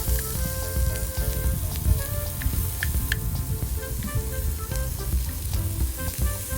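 Stuffed green chillies roast in a pan with a loud, continuous close sizzle, dense crackling and occasional sharp pops throughout.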